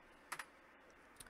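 A command typed on a computer keyboard at a PC: a few faint, quick key taps in two small clusters over quiet background hiss.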